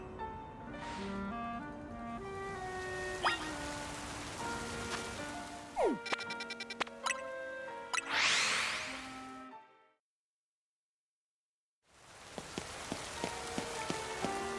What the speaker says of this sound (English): They had to hold the ceremony when it's raining.